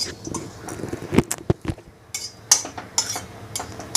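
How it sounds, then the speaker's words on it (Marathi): Grated coconut being dry-roasted in a pan for stuffed brinjal, with a spoon scraping and clinking against the metal in irregular strokes, close and moderately loud with quiet stretches between. "बघा हे असं भाजून घ्यायचं चांगलं खोबरं वगैरे जरा थोडं खरपूस भाजायचं"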